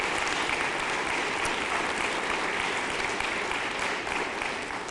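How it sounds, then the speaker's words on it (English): Steady applause from a press conference audience fills the room, a dense even clatter of many hands clapping at moderate distance, holding level throughout with no voices over it. "Let's give him a round of applause for his service."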